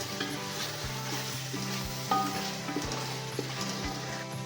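Biryani masala spices frying in hot oil in a pan while cooking chicken biryani, giving a steady close sizzle with soft scraping stirs and occasional clicks of a spoon, no voices.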